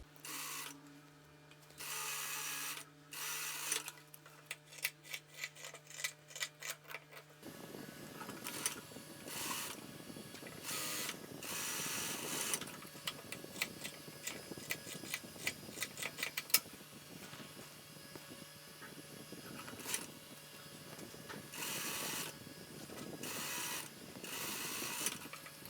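Domestic sewing machine stitching the side seam that joins three ruffle tiers of a long dress, a steady mechanical whirring with ticking, varying in bursts and pauses, close and fairly quiet, no talking.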